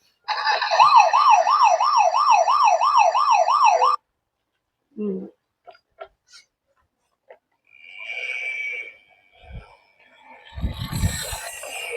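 A toy ambulance's electronic siren wails in a fast, steady up-and-down pattern for about four seconds, then stops, leaving brief clicks, handling noises and a short burst of talk afterward.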